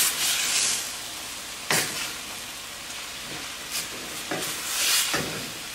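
A potato and fenugreek mixture is stirred in a frying pan, a steady soft sizzle and hiss with several scraping strokes of the spoon at irregular intervals, close and alone without talk.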